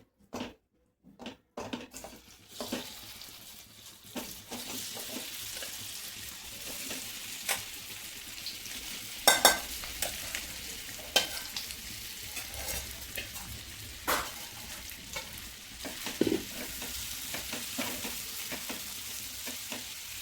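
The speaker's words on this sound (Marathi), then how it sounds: "पाच ते 7 मिनिटांसाठी फ्राय करून घेऊया" Marinated paneer frying in a spoonful of oil in a pan, a soft steady sizzle broken by scattered clinks and scrapes of stirring, with a couple of sharper knocks near the start.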